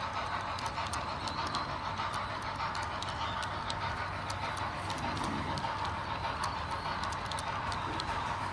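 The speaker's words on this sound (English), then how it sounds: "in this room is an awesome train display" A model train runs around a train display in a room at the Arizona State Capitol in Phoenix, a faint steady rolling clatter with small rhythmic clicks under a hushed indoor background.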